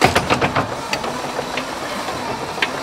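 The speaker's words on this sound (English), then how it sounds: "So the engine will now be cranking" A Rolls-Royce Merlin aero engine turns over on its starter, giving a close, steady mechanical churn with a quick run of rhythmic pulses that settles into a continuous whirring hiss.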